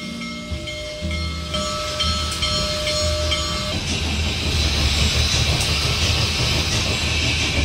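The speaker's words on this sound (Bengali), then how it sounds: "কিছুক্ষণ পরে মেল ট্রেনটি ছাড়ল।" A mail train pulls away in a dramatized audio story: a whistle gives way to rising rumble and rhythmic clatter of wheels on rails, growing louder and steadier as it gets under way, with no voices.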